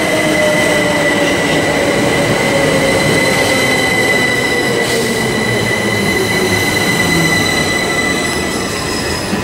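A Brighton passenger train arrives at a station, loud and close, with sustained high wheel squeal and steady rail rumble throughout and no talking.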